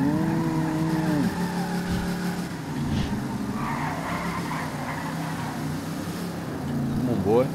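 A 945-horsepower 1970 Chevrolet Pro Touring in GTA V, its engine droning loud and steady with rising revs and a brief tire squeal near the end, while someone talks over much of it.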